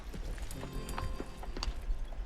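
Horse hooves clip-clop at a steady walking rhythm, close and moderately loud, with a cowboy's horse on the move and a faint voice underneath.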